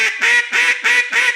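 Duck call blown in a rising scale: four evenly spaced, nasal quacking notes, close and loud, each step pitched a little higher than the last, with no talking.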